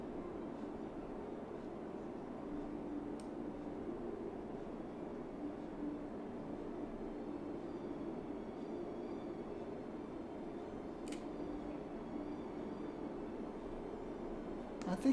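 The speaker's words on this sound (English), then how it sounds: "Then the next train will be coming around the corner any second." A low, steady rumble of trains at a busy station in the video game Cities Skylines, rolling faintly and continuously with a couple of brief higher clicks, under quiet talk.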